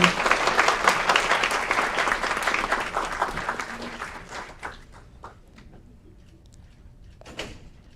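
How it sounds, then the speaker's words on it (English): A crowd applauds a student at a high school recognition event, starting with loud, dense clapping that thins and fades over several seconds into scattered claps and a few knocks. "Big round of applause for Lillian Feinberg"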